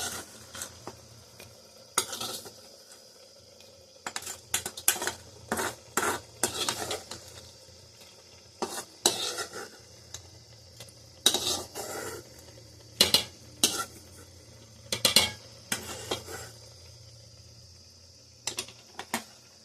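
Carrot beetroot halwa stirred in a pan with a metal spoon, bursts of clinking and scraping against the pan repeating irregularly, close and fairly loud, with quiet pauses and a faint insect-like hiss between strokes.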